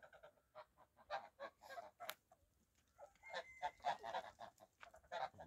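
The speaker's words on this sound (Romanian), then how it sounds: "Gâsca bătrână sare peste plasa aceea" Geese honk repeatedly in a farmyard, loud nasal calls in irregular clusters, some overlapping, heard fairly close with quiet gaps between bursts.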